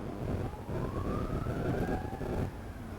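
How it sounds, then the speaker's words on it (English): An ambulance siren wails steadily with a slowly rising tone, heard from a distance over rumbling traffic noise. "that ambulance is not for any of us, I hope"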